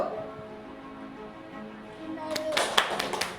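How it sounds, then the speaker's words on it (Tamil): A short burst of quick hand claps comes near the end, close and sharp, after a stretch of quiet classroom sound at a school for hearing-impaired children. "கைத்தட்டு"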